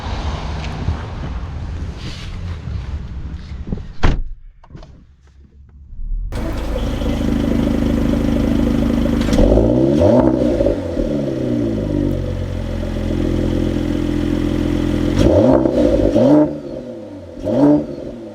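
A Mercedes-AMG GT 53 4-Door drives off and accelerates hard, its engine climbing through loud, rising revs with audible gear shifts and a steady rush of road and wind noise, with no talking.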